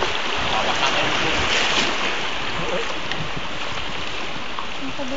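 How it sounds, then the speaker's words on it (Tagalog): A boat pushes through heavy river rapids at Pagsanjan, a loud continuous roar of rushing, churning water mixed with wind buffeting the microphone. "Nandun sa mabibigat na rapids"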